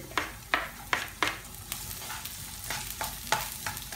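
Onion sautés in hot oil for chicken liver adobo, a continuous close sizzle punctuated by a steady series of sharp spatula scrapes and knocks against the pan.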